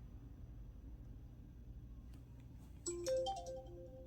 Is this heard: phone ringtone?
yes